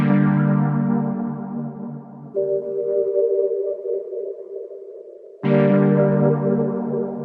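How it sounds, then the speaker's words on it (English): Two chord hits from an Arturia MicroFreak synth, processed with a low cut, mellow lo-fi coloring and plate reverb. Each is a loud, rich sustained chord that rings out and decays, with a thinner held tone bridging the gap between them. "The first thing that I added were 2 chord hits from the Micro Freak"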